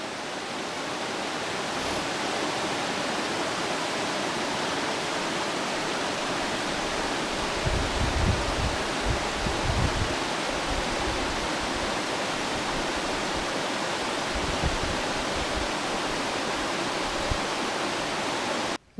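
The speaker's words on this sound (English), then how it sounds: "how nice the falls is flowing this spring" Spring waterfall in full flow, a broad constant roar of rushing water heard from nearby, with a deeper churning surge through the middle and no voices.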